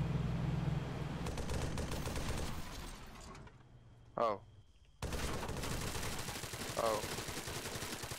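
A .50 cal machine gun hammers out rapid bursts of fire in ARMA 3, loud and continuous, then briefly drops out with a short mechanical whine before the heavy firing resumes; a voice gives a brief exclamation.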